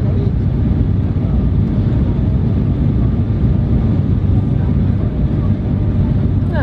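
A loud, steady low roar of engines and rushing air inside an aircraft cabin during the landing approach to Schiphol, unbroken throughout.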